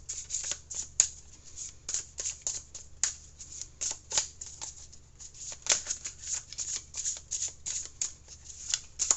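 Tarot cards are shuffled by hand in a quiet room, a soft run of riffling bursts and light card slaps repeating steadily for several seconds with no talking.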